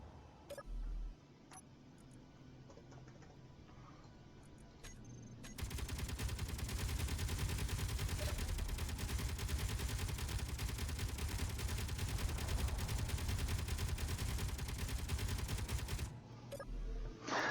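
Turrets in the video game Space Engineers open fire in a dense, continuous rattling burst lasting about ten seconds, loud and sustained, preceded and followed by scattered single shots and quieter game ambience.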